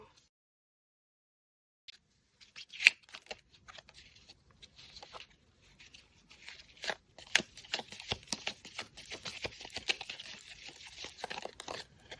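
Tarot cards are shuffled with soft riffling and crinkling sounds, starting after a silent pause and growing into a steady, close-up shuffle.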